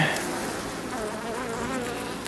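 Honeybees hum on a pollen frame crowded with drones, a dense, continuous close-up buzz that stays steady and loud throughout, with no voices over it.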